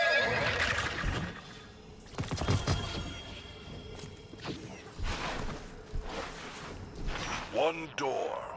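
A horse neighs in the Destiny 2 video game, a rising, wavering whinny near the end, after whooshes, clatters and a voice speaking.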